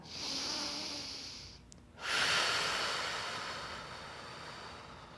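Steady breathing during a supine lateral hip shift exercise with an adduction focus: a long, airy exhale, a brief pause, then a fuller inhale, close and fairly loud with no talking.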